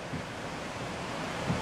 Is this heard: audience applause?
no